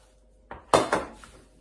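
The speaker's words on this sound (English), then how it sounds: "So I'm just gonna mix all the seasoning together" A utensil scrapes and clinks against a dish while seasoning is mixed for Jamaican steamed fish: a few quick, close clatters over about a second, then quiet.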